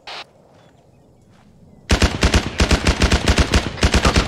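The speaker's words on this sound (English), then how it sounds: "I think the machine gun's still up or something." A brief shot, a quiet pause, then sustained rapid machine gun fire in ArmA 3. The bursts rattle loud and close in a steady pulsing rhythm, with no voices over them.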